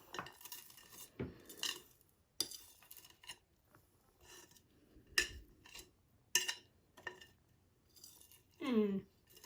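A spatula scrapes sticky Rice Krispie treat mixture from a bowl in a home kitchen, giving a string of short clinks and scrapes against the bowl with quiet gaps between them.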